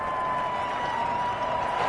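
Stadium crowd in a Madden 21 football game, Colts at Houston, a steady roar of cheering and applause with no breaks, loud and constant throughout.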